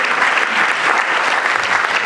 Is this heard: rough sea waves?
no